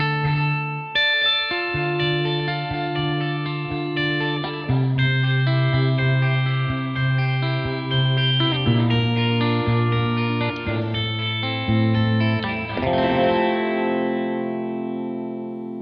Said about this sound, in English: Let's hear what an Astral Gate sounds like.